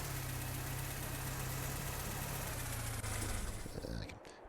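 A truck engine idles steadily in Farming Simulator 22, a low continuous rumble holding close and even before it cuts off near the end.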